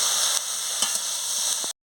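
Spinach and prawn curry stirred in a hot pan, a bright continuous sizzle with a few soft spoon scrapes, brief and close, without speech.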